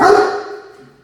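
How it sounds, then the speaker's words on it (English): A single loud, close bark from a 150-pound dog, a deep, full woof that rings out and fades over about a second. "The dog is 150 pounds."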